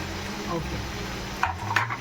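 Chopped onions for biryani hitting hot oil in a pan and being stirred, a soft sizzle with a couple of scraping clinks near the end.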